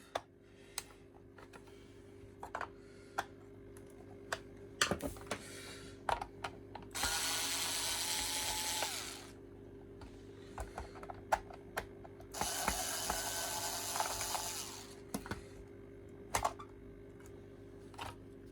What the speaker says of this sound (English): I've got my trusty screwdriver. Nope, these are too stiff.